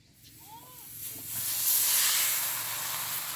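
A round dhapate flatbread lands on an oiled griddle over a wood-fired stove and begins sizzling, a hiss that swells loud and holds steady, with no talking.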